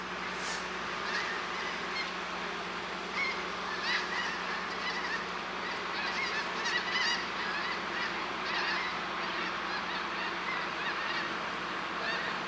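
A flock of Canada geese honks overhead outdoors, a steady chorus of overlapping calls lasting throughout at moderate distance, with no talking.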